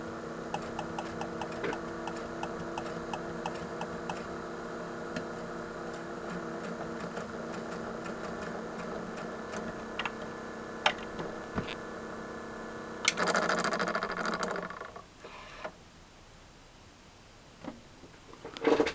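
An NAD M5 SACD player with a warped disc runs its drive loudly, a steady mechanical hum with regular ticking clicks throughout, then a brief burst of rattling noise near the end before it quiets.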